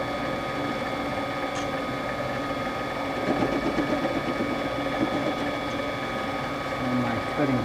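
A lathe facing the end of a piece of half-inch cold rolled steel, giving a steady mechanical whir and hum with tonal lines and faint scraping, rising slightly midway as the cut engages, continuous throughout.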